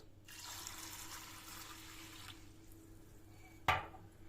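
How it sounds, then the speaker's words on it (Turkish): Water runs steadily into a pot of green lentils for a couple of seconds, then stops, followed by a single sharp clink. "Üzerini geçecek kadar su ilave ediyoruz."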